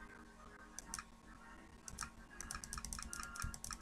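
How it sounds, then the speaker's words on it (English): Typewriter keys struck in a video game, a run of sharp mechanical clacks in irregular bursts that grow denser toward the end, close and fairly quiet over a low background hum. "Typewriter."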